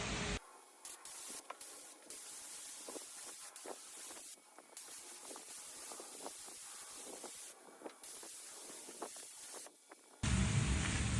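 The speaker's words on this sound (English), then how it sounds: "do a couple spray out patterns" A paint spray gun hisses in continuous, fairly quiet test spray patterns, interrupted by a few brief pauses, then a louder burst of noise at the end.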